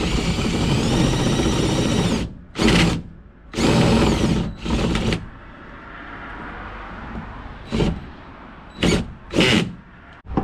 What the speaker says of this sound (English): take this 4-way connector right here and drill a 1-inch hole inside of that